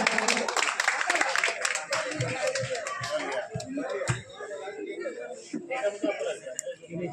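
Applause at a blood donation and health camp ceremony, a crowd clapping continuously for several seconds with scattered chatter and laughter mixed in.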